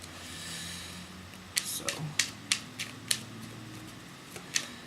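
Tarot cards being shuffled make a quiet run of crisp, quick snaps and flicks, about eight in a row at an uneven rhythm, close by and with no talking.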